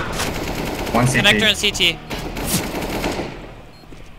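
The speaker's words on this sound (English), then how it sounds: "I'm getting shot." Rapid automatic gunfire bursts in Counter-Strike: Global Offensive crackle at close range through a few seconds, overlapping with players talking excitedly over voice chat.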